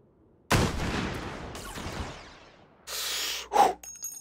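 Gunfire in the VR shooter Hot Dogs, Horseshoes & Hand Grenades: a loud burst of shots with a decaying tail, followed a moment later by a second sharp report and a metallic ring.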